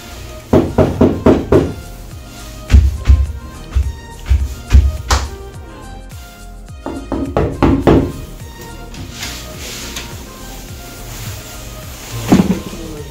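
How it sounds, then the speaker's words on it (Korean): Knuckles rap on a plastic UBR bathroom wall panel in quick clusters of hollow, booming knocks, loud and close, pausing briefly before another run of knocks and a final thump. "노크하듯이 벽을 두드렸을 때 전체가 둥둥하고 울리면 UBR 욕실입니다."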